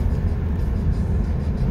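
Large Oro-line passenger buses pass on the winding Acatlán–Palomas mountain road, giving a loud, close, low engine rumble that holds steady through the short moment.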